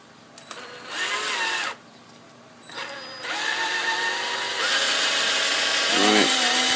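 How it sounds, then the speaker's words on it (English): An electric drill revs in a short burst, pauses, then runs again in a longer steady whir boring a hole in a knife handle, the pitch dipping under load near the end. "I'm just going to come back in here with my drill bit again."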